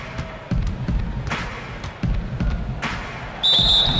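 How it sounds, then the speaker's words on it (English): A referee's whistle in the NBA 2K17 basketball video game blows sharply near the end, following a series of thudding ball bounces and squeaks on a game court with faint crowd ambience. "the officials whistle a foul on the shot"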